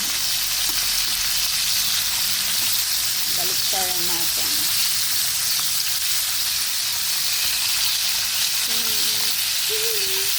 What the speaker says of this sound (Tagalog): Prito muna natin.